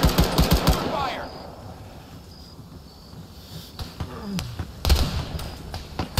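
Gunfire in the military shooter Arma 3: a rapid burst of sharp shots opens the clip, then quieter rumbling ambience, with more shots returning near the end and a brief voice in between.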